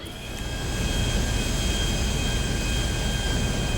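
A steady, droning airplane engine in Grand Theft Auto V roars continuously at an even level, with no voices over it.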